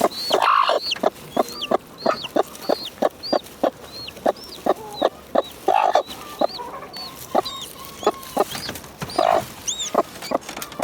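A hen clucks in a steady, repeated rhythm, close by, with faint high peeping from newly hatched chicks mixed in.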